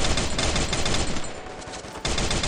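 FAMAS rifle fire in the mobile shooter Free Fire Max: dense, continuous loud automatic bursts with a brief dip near the end, no talking.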